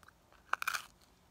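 A single bite into crunchy pizza baked in a Dutch oven at a campsite gives a short, close crunch with a couple of quick crackles, then quiet.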